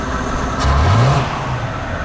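The original, unrebuilt engine of a 1953 car revs up briefly, a loud close engine note rising in pitch then easing back, over a steady engine rumble.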